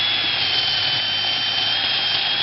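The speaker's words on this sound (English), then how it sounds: "Because I'm not using a drill press, I can kind of rock the drill bit a little bit." Hand-held drill boring a hole with the bit rocked slightly side to side, a steady, close, high-pitched whine running continuously without pause.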